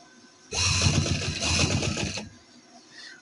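A sewing machine runs in one continuous burst of rapid, rattling stitching for nearly two seconds while sewing a neck design on a garment, then stops and leaves near silence.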